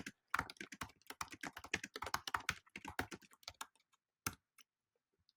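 Rapid typing on a computer keyboard, close and crisp, with bursts of fast keystrokes and brief pauses, ending in a few isolated taps then silence.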